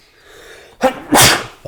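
A single loud, close sneeze: a short sharp intake of breath followed by a forceful explosive burst.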